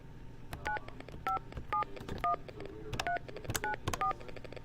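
A desk phone being dialed, with a rapid series of about ten short, evenly spaced touch-tone beeps, each a clean dual tone, heard close over faint clicks and room noise.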